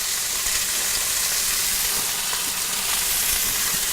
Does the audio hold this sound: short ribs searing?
yes